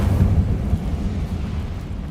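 The Incendio fire spell cast in Hogwarts Legacy, a deep whooshing burst of flame that swells briefly then settles into a low roaring rumble.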